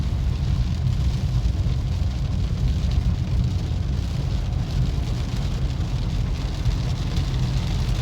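Heavy rain during a summer storm, heard from inside a car driving on a road with other cars behind: a steady, loud wash of rain and road noise that stays even throughout, with no talk.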